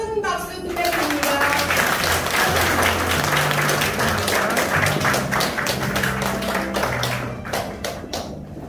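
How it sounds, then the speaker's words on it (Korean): Loud, steady applause from a crowd welcoming retired senior members at a Rotary club installation ceremony, with a brief voice at the start and scattered crowd noise under the clapping. "우리 퇴하신 시니어들께 축하와 환영의 큰 박수 부탁드립니다"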